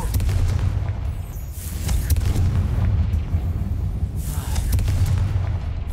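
Confringo blasting spell cast in Hogwarts Legacy, heard as a dense run of loud, booming explosive bursts with strong low rumble, continuing over the whole stretch with flares of crackling debris near the start and again toward the end.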